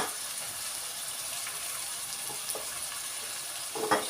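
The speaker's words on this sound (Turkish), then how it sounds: "Bunu da soteliyorum. Şu malzemelerimiz güzel sotelensin." Vegetables with pepper paste sauté in a pan, giving a soft, steady sizzle with a few faint clicks and a slightly louder stir of movement near the end, with no speech.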